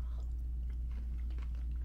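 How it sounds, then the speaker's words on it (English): Close, crunchy chewing of corn eaten with mac and cheese at a cruise ship grill, soft irregular bites and mouth sounds over a steady low background hum, no talking. "I'm trying a little bit of corn with mac and cheese."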